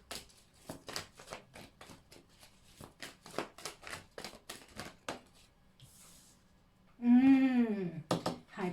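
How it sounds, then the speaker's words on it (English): Tarot cards are shuffled and drawn from a deck in a run of quick, crisp flicks and slaps close by, then a brief pause and a louder shuffling burst near the end; no talking is heard. "Let me just get a few more cards."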